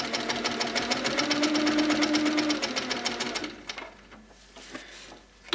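An HQ Sweet Sixteen sit-down sewing machine quilting along rulers runs in a fast, steady close rattle of needle stitching for several seconds, then stops, leaving faint handling clicks.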